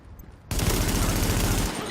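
Submachine gun fire in The Division video game starts abruptly as a dense, continuous burst lasting over a second, loud and close, with quieter game ambience before and after.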